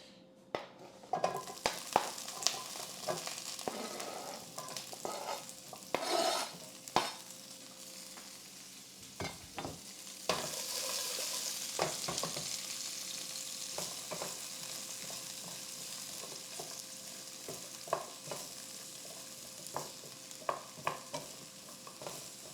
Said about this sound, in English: Got the broccoli in, making one of my staple meals, which is just rice, broccoli, and tofu.